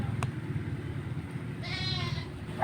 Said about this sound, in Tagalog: Umiiyak ang ating kambing.